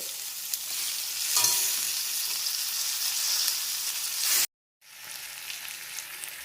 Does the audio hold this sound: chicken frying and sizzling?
yes